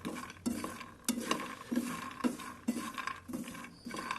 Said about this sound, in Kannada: ಇದು ಸ್ಮೆಲ್ಲು ಈ ಥರ ಸೌಂಡ್ ಬರುತ್ತೆ ನೋಡಿ, ಚಟ್ಪಟ್ ಅಂತ ಸೌಂಡ್ ಬರುತ್ತೆ, ಅಂದರೆ ಅದು ಫುಲ್ ಫ್ರೈ ಆಗ್ತಿದೆ ಅಂತ ಅರ್ಥ.